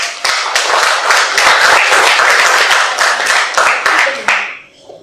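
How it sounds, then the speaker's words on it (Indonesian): A classroom of students claps together after a group presentation, brisk close applause of many hands that fades out at the end. "Saya berikan aplaus."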